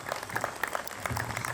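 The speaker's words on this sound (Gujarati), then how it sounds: "બસ આ બધા તાળીઓના ગડગડાટથી બતાવો છો." Audience applause at a community reunion gathering held by a youth association in Surat: a steady patter of many hands clapping, fairly faint and continuous throughout.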